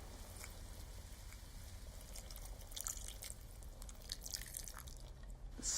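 A cupful of water poured into a pot of chilli during home cooking, a soft, faint trickling and dripping that runs steadily for several seconds, with no talking.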